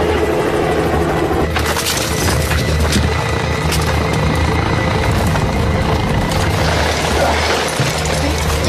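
Helicopter rotor and engine noise during a mountain rescue, a loud steady thudding drone that fills the whole stretch at close range, with mechanical rattling on top.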